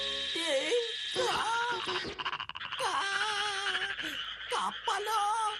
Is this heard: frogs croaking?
yes